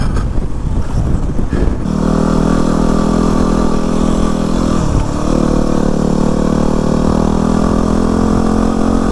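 A Yamaha WR250R dual sport motorcycle on a cold dirt trail runs loud and close, a rough burst of revving at first settling into a steady humming engine drone with a slight dip midway.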